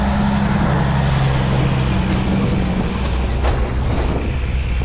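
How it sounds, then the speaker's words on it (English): A dump truck roars past close by, a loud steady engine rumble mixed with wind noise, with no talking. "it's a dump truck about to pass"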